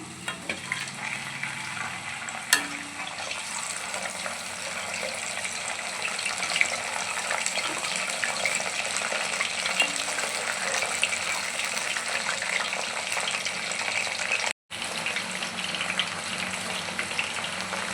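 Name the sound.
aloe vera frying in oil, stirred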